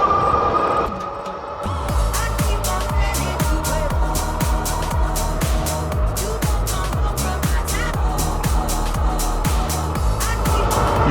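A Puckipuppy GoldenR electric bike cruises at top speed, its steady motor hum and road rumble pulsing rhythmically beneath strong wind buffeting, loud and close throughout after a brief quieter opening.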